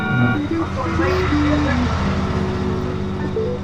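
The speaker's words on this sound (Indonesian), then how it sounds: "Suaranya itu kayak gini cuy untuk Supra MK4." In the FiveM mod of GTA San Andreas, a Toyota Supra MK4 engine revs loudly with rising and falling pitch sweeps, running continuously close up with a horn-like tone over the top.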